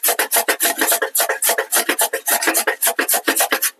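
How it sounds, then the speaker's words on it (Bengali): Carrots rasped on a hand grater in a home kitchen, a quick steady series of close, scratchy strokes about five or six per second, with no voices. "আমি ঘষনিটা দিয়ে গাজরগুলো ঘষে নিব"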